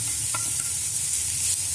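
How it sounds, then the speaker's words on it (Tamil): Grated carrot sautés in a hot pan after chili powder, a loud steady sizzle with faint stirring scrapes close by. "நான் கொஞ்சம் ஒரு ஹாஃப் பாயில் ஆகிற வரைக்கும் வதக்கிடணும்"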